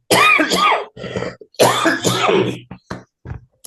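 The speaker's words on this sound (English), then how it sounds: "Still got a little bit of a cough" Someone nearby coughs and clears their throat in a few rough bursts, with short pauses between them.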